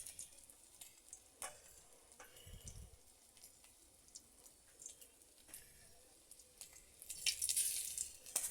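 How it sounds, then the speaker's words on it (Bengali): Round batter balls frying in hot oil over medium heat, a soft continuous sizzle with light bubbling and occasional faint utensil taps, growing brighter and louder toward the end. "মিডিয়াম আঁচে ভেজে নেব"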